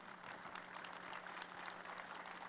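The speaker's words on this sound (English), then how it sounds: "I'm glad to hear school choice get some applause" Audience applause at a political conference panel, steady dense clapping from a crowd heard at a distance and fairly quiet, continuous throughout.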